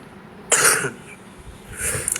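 Two harsh, close coughs from a person, a sharp burst followed by a second rougher cough after a brief pause, loud against a quiet room.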